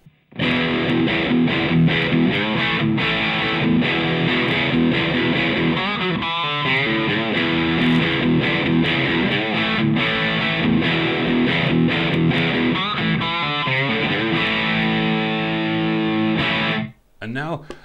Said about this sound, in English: now I'll play the same riff as before, but with this mid-cut, more aggressive tone